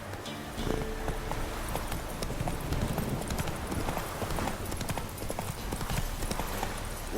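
Roach, a horse in The Witcher 3, trots along with steady rhythmic clip-clop hoofbeats, close and fairly loud, over a busy outdoor ambience.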